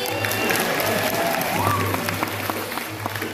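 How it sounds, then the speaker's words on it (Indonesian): An audience claps steadily through a classical Balinese Arja dance-drama performance, a dense even patter of applause at moderate loudness without a clear break. "Tepuk tangan lagi sekali."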